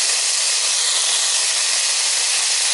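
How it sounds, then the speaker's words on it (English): Green and white onions hitting a hot pan give a loud, steady sizzle that hisses without a break from start to finish, with no voices over it. "So I'm going to add in some green onions and some white onions."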